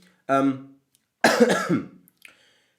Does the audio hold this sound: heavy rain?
no